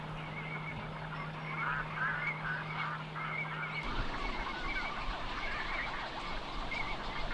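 Herons and egrets call from a bamboo forest along the Taehwa River, giving repeated harsh, honking squawks over a constant background of rustling ambience. The calls are moderately close, and there is no talk.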